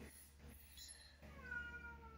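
A cat meows a few times over steady background hum, the cries fairly faint and drawn out.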